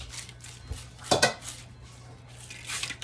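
A utensil scrapes and spreads pumpkin seeds across a warm pan. There is one louder scraping burst in the middle, and lighter scrapes and clatter come before and after it. No one talks.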